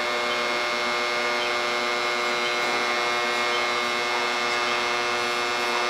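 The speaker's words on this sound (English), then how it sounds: "The humming is the variac, not the inverter." A variac powering an induction heater for melting copper and steel gives off a steady, loud electrical hum with a buzzy edge, unbroken and alone for the whole stretch.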